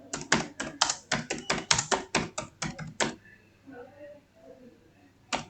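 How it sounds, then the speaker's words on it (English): A message is typed on a computer keyboard in a quick, close burst of crisp keystrokes that stops abruptly, followed by soft speech in the background and one last key tap. "So I will type a message here."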